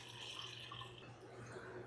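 Mixed solution of a DIY two-part trace mix pouring steadily into a container, a faint continuous trickle of liquid under low hum, no talk.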